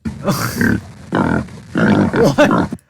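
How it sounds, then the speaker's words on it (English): Deep, throaty pig-like grunts from a cartoon T-Rex come in three separate bursts, close and fairly loud, with brief pauses between them. "What is that pig noise T-Rex over here?"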